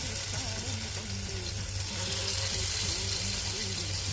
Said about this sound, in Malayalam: മീൻ വറുക്കാൻ പോവുകയാണ്. വെളിച്ചെണ്ണയൊക്കെ ചൂടായിട്ടുണ്ട്.